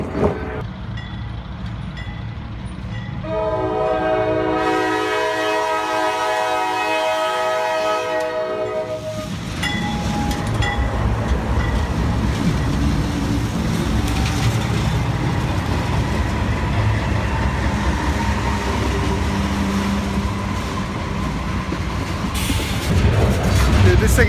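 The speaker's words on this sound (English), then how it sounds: "there's a train coming, so I'm going to shoot the train" A long freight train passes close by, opening with a loud, sustained multi-tone horn blast, then a heavy continuous rumble and rhythmic clatter of wagons rolling past for the rest of the pass.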